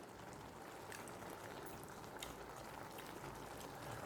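Steady bubbling of a thick bottle gourd and lentil curry simmering and boiling in a pan, continuous soft popping and hiss, close up with no talking.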